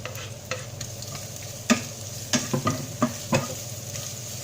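Garlic frying in a pan for carbonara, a steady sizzle under a series of spatula stirs and scrapes that grow busier in the second half, close and clear with no talking.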